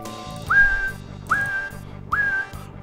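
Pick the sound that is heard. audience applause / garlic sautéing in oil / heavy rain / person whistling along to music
person whistling along to music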